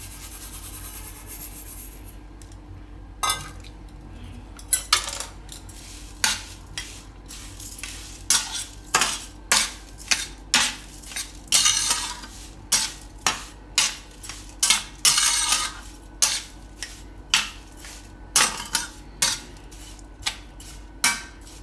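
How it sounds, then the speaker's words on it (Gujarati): Sugar being stirred into chopped strawberries in a bowl for syrup, a spoon making a long run of rhythmic scraping clinks against the bowl, close and steady, with no talking. "હવે આમાં આપણે નાખી દઉં આ ખાંડ, મિક્સ કરી દઉં."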